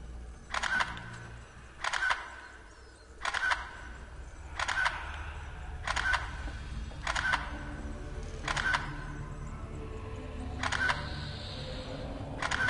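Repeated camera shutter clicks in the horror game DreadOut, about ten crisp snaps spaced roughly every second or so over a low ambient hum.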